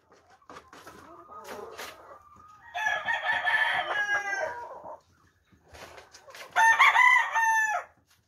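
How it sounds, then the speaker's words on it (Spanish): Chickens cluck and murmur nearby before a rooster crows loudly and close twice, each crow long and strained, with quieter clucking in between. "Chulada de pollos."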